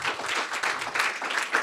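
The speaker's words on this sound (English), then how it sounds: "A round of applause, please." Audience at an investment forum applauding after a project presentation, a moderate, even patter of clapping from a seated crowd.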